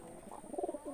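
Pigeons of an eagle breed in a breeding loft give soft, low cooing calls over a steady faint background hiss, close and gentle in one short burst.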